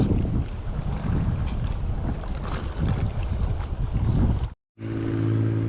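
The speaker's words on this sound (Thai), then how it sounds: "ลมก็มา เป็นลมตะวันออกนะครับ" Strong east wind roars over a fishing boat at sea off Trang, a steady, loud, buffeting rush across the microphone that cuts out abruptly near the end and then gives way to a lower hum.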